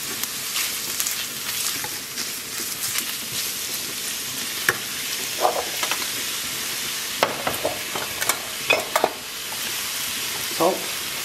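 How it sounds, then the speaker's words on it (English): Pork with freshly dried marjoram frying in a pan, a loud, continuous close sizzle broken by repeated scraping and clacking stirs with a utensil. "then we will fry this until the meat is nicely done."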